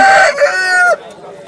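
A rooster crows once at a rooster market in Vijayawada, close and loud, its long harmonic call rising and then breaking off sharply, followed by quiet background.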